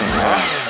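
A Honda CBR400RR motorcycle engine with gear-driven cams revs briefly and loudly at close range. A steady mechanical whine rides over the engine roar, with no talking.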